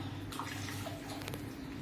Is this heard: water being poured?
yes